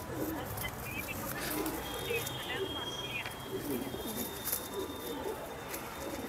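Pigeons of old fancy breeds coo in soft repeated low murmurs close by, with faint chirps and background chatter mixed in.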